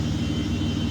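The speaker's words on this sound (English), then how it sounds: "Sorry for the background noise, by the way. He's buffing the car over there." In the background, a machine buffs a car's paint beside a 2012 Aston Martin DBS V12, giving a steady, fairly loud whirring drone with a low, pulsing hum.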